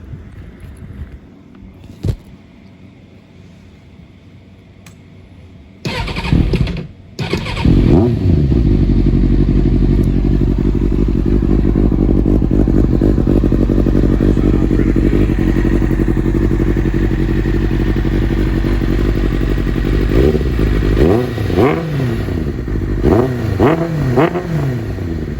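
A Kawasaki ZZR 600 motorcycle cranks on its first start of the day, catches and settles into a loud, steady close-up idle, with a few blips of revving near the end.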